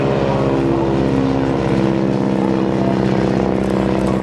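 Propeller plane at an air show taxiing toward a crowd, its engine and airscrew droning loud and steady throughout, with stacked harmonic hum that cuts off abruptly at the end.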